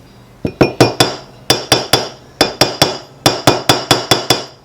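A hammer taps a grease seal into a boat trailer hub, about seventeen sharp metallic strikes in quick uneven clusters with short pauses between groups, loud and close with no talking.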